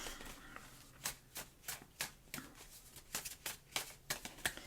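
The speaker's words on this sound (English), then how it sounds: "Give them a bit of a shuffle here." Tarot cards being riffled and shuffled in repeated quick bursts, close up and fairly quiet, with short pauses between each pass.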